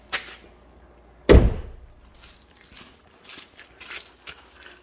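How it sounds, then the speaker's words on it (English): A 2011 Honda CR-V door slams shut with a single loud, close thunk, followed by faint clicks and rustling near the vehicle. "Let's close the door."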